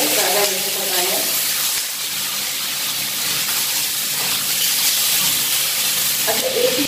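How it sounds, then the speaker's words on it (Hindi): Chicken frying in a karahi for a restaurant-style chicken karahi, a loud, dense, steady hiss of hot oil sizzling up close, with faint bits of voice at the start and end. "बस हमें इसको इतना ही फ्राई करना है कि इसका कलर चेंज हो जाए"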